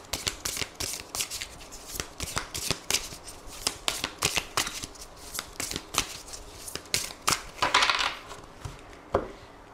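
Tarot cards being shuffled by hand, with repeated crisp riffling bursts and flicking snaps in an uneven rhythm, close up and clear with no talking.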